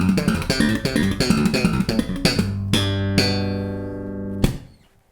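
Fast slap bass lick, with rapid percussive thumps and pops in a dense run, followed by a few sharp accented hits and ringing notes that fade out, loud and alone.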